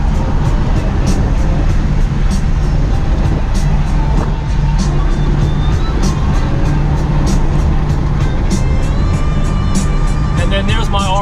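A 1955 Chevy Nomad with an LS3 V8 cruising at around 70 mph, a steady, loud engine and road drone filling the cabin throughout with constant low rumble and wind noise, no talk.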